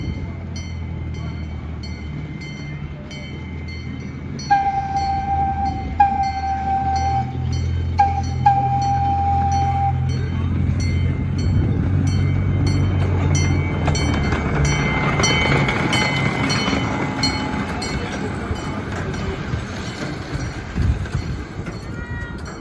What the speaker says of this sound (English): we captured this little video of the train, which we were going to ride, pulling into the station